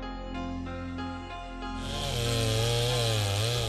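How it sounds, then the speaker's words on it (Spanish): A chainsaw cutting valuable rainforest timber drones steadily at first, then revs harder and louder about halfway through as it bites into the wood, with no voices. "Los árboles valiosos son cortados con la motosierra y vendidos en el extranjero."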